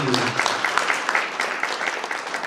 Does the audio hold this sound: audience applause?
yes